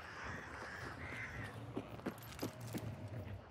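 Crows caw repeatedly in Hunt: Showdown's Louisiana bayou, several harsh calls spaced through the clip over a steady ambient backdrop, moderately close.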